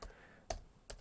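Three quick, crisp keystrokes on a computer keyboard type a command, spaced evenly and close by in a quiet room.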